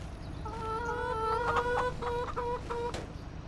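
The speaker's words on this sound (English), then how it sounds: "I've got some chickens." Chickens in the video game Farming Simulator 25 cluck in a series of short, tonal calls, moderately close, over a steady background hum.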